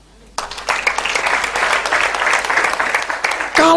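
An audience at a church seminar bursts into applause, dense clapping that starts abruptly and holds steady for a few seconds.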